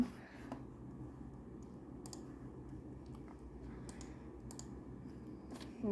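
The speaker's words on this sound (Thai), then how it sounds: "มันต้องกดคีย์บอร์ดต้องสองอัน" Computer keyboard keys click in scattered bursts while playing Garry's Mod, fairly quiet and close, over a low steady background hum.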